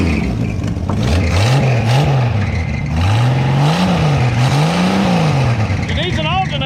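A 1966 Ford Mustang engine fed from its own fuel tank starts and revs, its pitch rising and falling in several surges, loud and close, with people talking over it.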